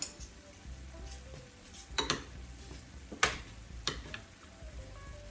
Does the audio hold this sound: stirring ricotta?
yes